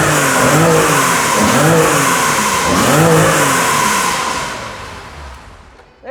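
A Porsche engine fires up and revs in steady, roaring swells close by, with rising and falling pitch sweeps that fade toward the end, then a brief sharp burst right at the close.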